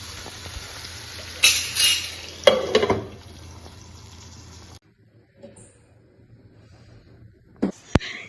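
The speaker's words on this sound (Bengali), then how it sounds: "এই যে দেখো মাছ ভাজাটা হয়ে গেছে" Fish frying in a pan with green chillies, with a broadband sizzle running steadily under occasional clatter of utensils, then dropping away as the pan is covered; a few brief knocks near the end.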